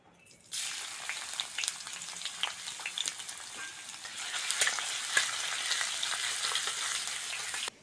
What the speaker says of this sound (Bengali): কড়ার মধ্যে তেল দিয়ে দেবো প্রথমে থেতো করা রসুনটা দিয়ে দেবো